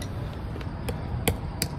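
A hammer taps the render on a cracked, crumbling house foundation, giving about three sharp, sparse knocks over a low, steady background rumble.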